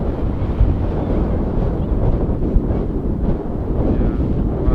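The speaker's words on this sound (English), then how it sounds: "Yeah, wow, it's pretty windy." Strong, steady wind buffeting the microphone in a very open spot at Edmonton International Airport, a constant low roar with gusty rumbles and no voices.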